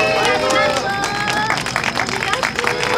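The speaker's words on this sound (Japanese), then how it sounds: "もう一度大きな拍手" Audience applause at an outdoor sunflower festival concert after a duo's performance, a dense, steady wash of clapping lasting throughout, with a voice speaking over it.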